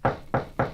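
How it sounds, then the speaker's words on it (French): Three firm knocks on an inn's wooden door at night, evenly spaced and close, with nothing else heard. "Aussi frappèrent-ils à la porte."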